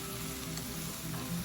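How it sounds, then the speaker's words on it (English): Striped bass frying in hot oil for fish tacos, a steady, dense sizzle and crackle that carries on without a break, close and moderately loud, with no voices. "We've got our fish frying right here."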